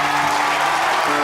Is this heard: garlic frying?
no